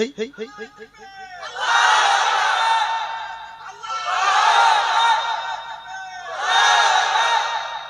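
A crowd at a Bengali religious sermon gathering roars out takbir in three loud, sustained collective shouts, each swelling and fading, after a brief call from a single voice.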